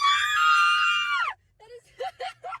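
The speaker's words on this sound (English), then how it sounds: "Why did we scream so loud?" Several people let out one long, loud, high-pitched scream together for over a second, then break off into short, excited vocal bursts.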